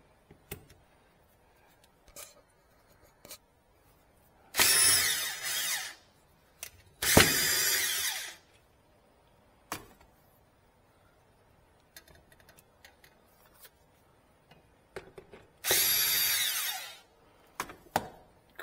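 Power drill driving long screws into a wall stud to hang a heavy lumber shelf in a workshop, heard as three separate loud bursts of whirring with quiet handling clicks and taps between them.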